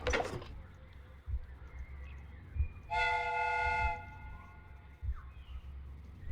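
A homemade, lever-operated steam whistle contraption built to mimic a train lets out a single steady, harmonic whistle blast about a second long over a constant low rumble, with a sharp knock just before.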